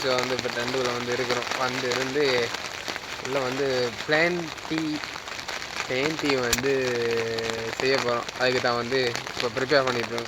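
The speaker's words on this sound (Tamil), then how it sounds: "நல்லா மழை பெய்ய தொடங்கிது" Rain falling steadily on a tent during a hike to Kabaragala, Dolosbage, a continuous soft pattering and hiss running beneath someone speaking Tamil throughout.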